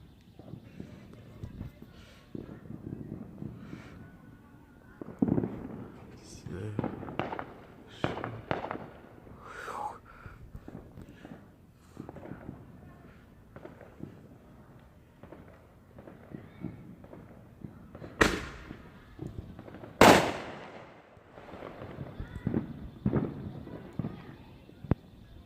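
Fourth of July fireworks pop and crack at irregular intervals, mostly muffled and distant, with a couple of sharp, loud bangs near the end.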